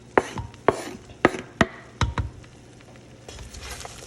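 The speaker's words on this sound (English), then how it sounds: "we are going to go ahead and add in our colorful ingredients" Colorful ingredients drop into a pot of seasoned rice with a handful of sharp clatters and thumps, followed by a soft, steady sizzle as they settle in.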